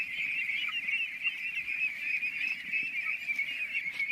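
Farm ducks waiting by their feed, eager to be let out to the pond, make a steady continuous chorus of calls, moderately close and with no talk over it.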